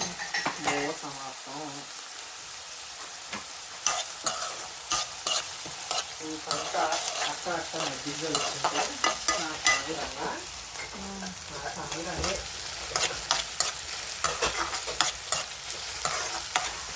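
Okra and prawns frying for a curry, with a steady sizzle and repeated scraping and clinking as a spoon stirs the pan, close and continuous.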